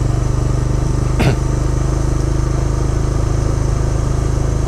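A Bajaj Dominar 400 motorcycle engine cranking but not catching, heard as a loud, close, steady mechanical drone with a rapid regular pulse and one brief sharper burst partway through.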